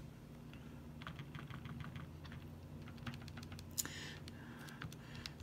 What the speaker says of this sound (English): where you're just kind of typing stuff in the calculator